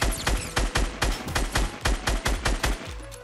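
Rapid automatic gunfire in Fortnite Battle Royale, a steady burst of evenly spaced loud shots repeating about four times a second for several seconds, close and dominant with no talk.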